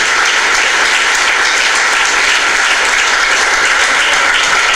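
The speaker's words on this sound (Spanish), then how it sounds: "Un aplauso porque estas personas que vinieron aquí el día de hoy son valientes" A church congregation claps together in dense, sustained applause that stays loud and even throughout, with no voices standing out above it.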